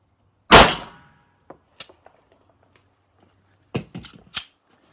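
A Glock pistol fitted with a Timney trigger fires several rounds: one loud crack near the start, a couple of faint clicks, then a quick cluster of three or four sharp shots toward the end, with no talking.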